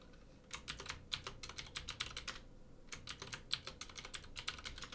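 Keystrokes on a computer keyboard as a passphrase is typed for a key, quick bursts of clicks in two runs separated by a short pause, close and clear with no talking.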